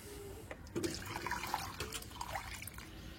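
Water poured into a potted jasmine (beli) plant after feeding, a soft splashing and trickling with faint drips, fairly quiet and close, no talk over it.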